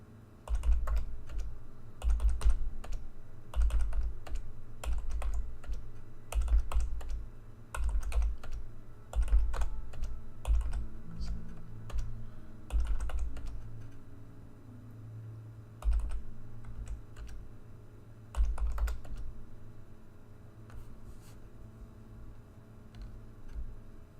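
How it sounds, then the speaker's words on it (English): A computer keyboard clatters in bursts of rapid clicking keystrokes, close and moderately quiet, with short pauses between flurries and no talking. "You can probably hear my keyboard clicking."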